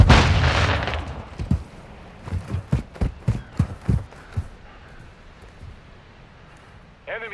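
Modern Warfare 2 multiplayer match on Taraq: a loud flash grenade burst followed by a rapid string of sharp gunshots and booms, then fading into quieter background ambience.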